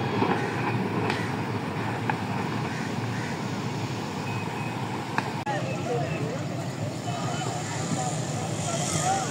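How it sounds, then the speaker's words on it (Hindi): A passenger train passing at speed through a railway station in the evening, a loud continuous rushing and rumbling roar with wheel clatter, while someone narrates over it. "ये आज की तीसरी और शानदार ट्रेन और कमाल का स्पीड एक्शन"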